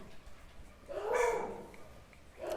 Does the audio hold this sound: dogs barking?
yes